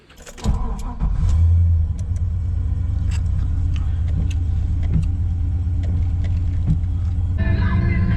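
LS-engined Nissan Patrol on 36-inch mud tyres with beadlocks, driving: a loud, close engine rumble starts up and carries a constant tyre drone along with it.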